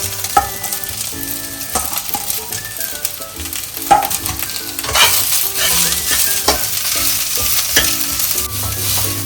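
Cabbage and carrot stir-frying over fried onions in a pan for street-style noodles, with loud close sizzling, repeated spatula clanks and scrapes, the frying growing fiercer halfway through.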